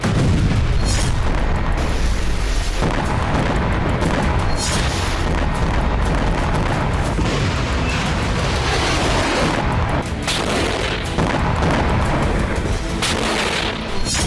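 Missile, rocket and drone explosions in a war news report: heavy booms and rumbling blasts come in repeated bursts, loud and dense over a continuous roar, with sharp impacts around the start and middle.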